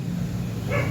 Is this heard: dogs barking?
yes